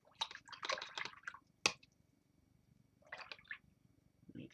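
A paintbrush is swished and dabbed in clean water to wet watercolour paint, giving a few short wet squishing bursts separated by a quiet pause and one sharp tap.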